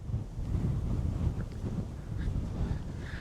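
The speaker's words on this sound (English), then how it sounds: "The only thing that's spoilt it today is the wind, isn't it?" Wind buffets the microphone on a hilltop in Staffordshire, a constant low rumbling roar with gusty swells and no voices.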